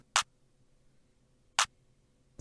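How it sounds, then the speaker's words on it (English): Two crisp, sharp clap samples from a hip-hop beat, spaced well apart and standing alone over near silence, with a third just starting at the end. "We got some claps."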